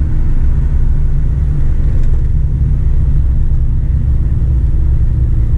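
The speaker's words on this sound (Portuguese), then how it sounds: "agora eu vou começar a acelerar novamente" A car's engine drones with a loud, steady, low rumble on a mountain-road descent of Serra do São Luiz do Purunã as the driver eases back onto the accelerator, with constant road and cabin noise and no talking.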